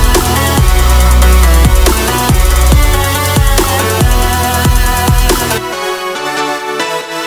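A loud, full drum break for a drop, with layered snares, a steady hi-hat and a deep kick, plays together in a driving rhythm for several seconds before thinning out near the end.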